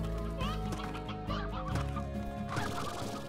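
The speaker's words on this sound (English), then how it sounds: "I thought I heard a chicken." A chicken in the Slime Rancher video game clucks several times in quick succession against a steady game soundtrack, clear and close.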